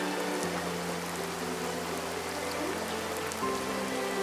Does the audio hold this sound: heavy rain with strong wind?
yes